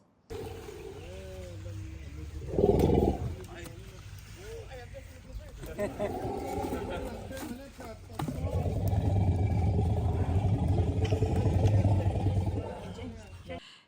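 Elephants at a sanctuary near Chiang Mai make low rumbling and roaring calls to one another, several bursts over the span, mostly close and fairly loud, with a longer sustained rumble toward the end.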